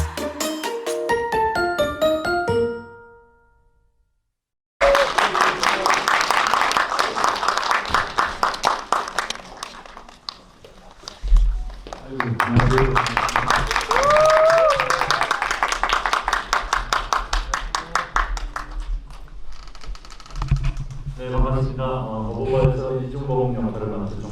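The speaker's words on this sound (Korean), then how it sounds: "박수를." Audience clapping and applause at a stage greeting after a film screening in a CGV cinema hall, scattered sustained claps mixed with cheers and people talking, after a short stretch of voices and a brief silence.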